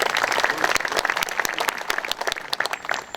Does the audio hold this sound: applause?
yes